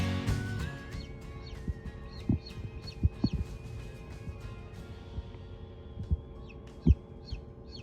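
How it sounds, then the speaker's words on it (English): Newly hatched chicks peep in high, thin chirps inside a chicken egg incubator, scattered and repeated with some soft knocks and bumps close by. "We're waiting on a couple more chicks to hatch."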